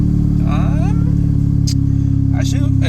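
A Honda Civic Type R FL5 with a catless downpipe drones loudly from inside the cabin as it accelerates, a steady engine hum with brief sharp hisses, while a voice talks over it.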